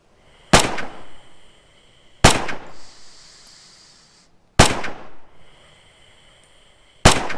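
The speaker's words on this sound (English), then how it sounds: "Free fire at the targets on the range." Rifle gunfire at range targets in the World War II game Red Orchestra 2, four loud, sharp single shots spaced about two seconds apart, each followed by a short echoing tail and mechanical clicks.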